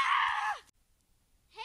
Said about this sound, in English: I heard a scream in the woods